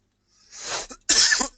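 Two close, harsh coughs in quick succession, the second louder and sharper, with a brief start of a third at the end.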